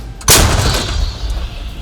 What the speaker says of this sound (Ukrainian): Давай, вогонь і все. Гармата!